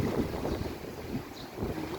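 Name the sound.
rough sea waves and wind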